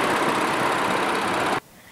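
A Nissan Pathfinder's 3.5-liter V6 engine runs under the hood with a steady, loud broadband roar that cuts off abruptly near the end, leaving faint room noise.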